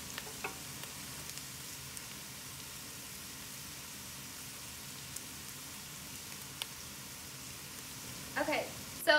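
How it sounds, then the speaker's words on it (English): Garlic browning in oil in a pan for braised short ribs gives off a steady, moderate sizzle that stays even throughout, with a few light clatters of a utensil near the end. "Just mix that around and I'll give it about a minute just until you can really start to smell and see that the garlic's browning."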